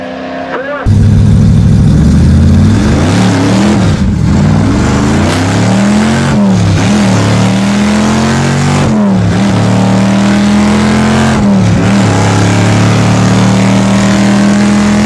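A big block Chevy Impala drag car roars down the strip, its engine loud and close, rising in pitch through repeated gear changes with brief dips between shifts for about fourteen seconds.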